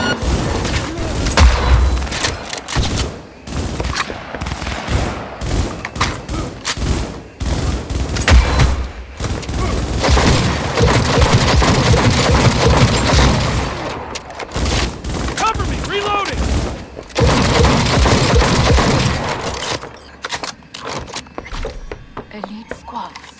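Sustained gunfire and bursts of automatic weapons in the video game Cyberpunk 2077, with loud booms and impacts running nearly nonstop under shouted voices.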